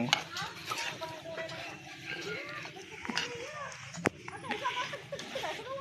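Ginataang kalabasa, squash in coconut milk, is stirred in a pot with soft scraping and occasional clinks of the utensil, mostly under chatty talk and laughter nearby.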